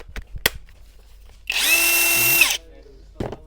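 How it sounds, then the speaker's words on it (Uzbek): A DeWalt rotary hammer drill runs in one loud, steady burst of about a second, a high whining buzz that starts and stops abruptly, with brief handling knocks before and after. "Perforatorimiz bor."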